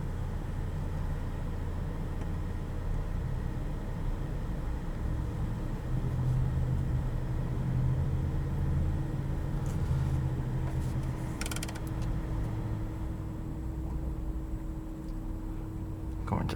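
A 2020 Porsche Taycan Turbo S electric car driving, heard from inside as a steady low road and drivetrain rumble with a faint whine and small clicks, fairly quiet and continuous.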